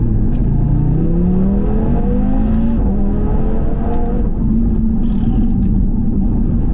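An Audi TT RS turbocharged engine accelerates hard on a track, with rising harmonic tones climbing through successive gears over a loud, dense rumble and continuous roar with no talk.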